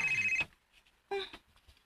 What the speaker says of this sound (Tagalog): ay mong cellphone nagsigbagting